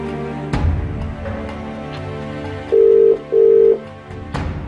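A telephone ringback tone on an outgoing call during a Tamil reality talk show, two short buzzing ring pulses close together over a soft musical background.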